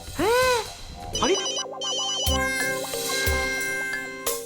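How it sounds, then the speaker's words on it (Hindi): A mobile phone rings with a bright electronic ringtone melody, close and clear, in a Hindi children's comedy scene with cartoonish sound effects at the start. "फोन बज रहा तेरा फोन बज रहा है"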